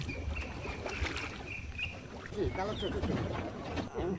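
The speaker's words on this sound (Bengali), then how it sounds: "নৌকা চালানো এবং হাত দিয়ে চালানো।" A small wooden boat is rowed by hand during a river ride, with soft water swishes and paddle strokes under steady wind noise and a faint voice nearby.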